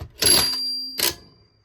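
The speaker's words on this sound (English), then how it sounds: "The cash register bank, however, works perfectly. It even makes a sound when you put in a quarter" Toy cash register coin bank chiming as a quarter is dropped in, with two bright ringing bursts and a faint tonal hum between them, close and clear with no talk.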